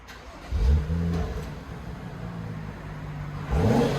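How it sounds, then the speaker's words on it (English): A stock 2013 BMW 335i turbo engine rising into two revs with a steady idle rumble between them, heard nearby with no talk. "2013 335i BMW. This is what it sounds like before factory."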